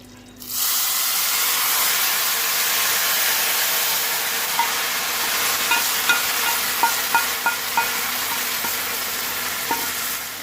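A sudden burst of loud, steady sizzling and hissing as hot tempering oil is poured into kadhi curry, with light spoon clinks tapping out a rhythm as it is stirred.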